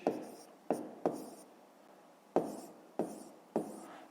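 Pen strokes on paper while working through a fifth-grade maths exercise, six quiet scratchy taps and short scribbles in an irregular rhythm, close and soft, with no speech.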